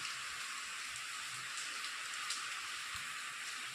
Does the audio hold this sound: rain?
yes